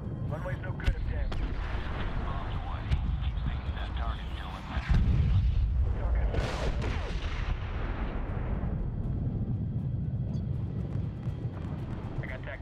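Heavy bomb blasts rumble through a Medal of Honor air-strike mission over a village, a big booming burst midway over continuous battle din, with radio voices talking over it.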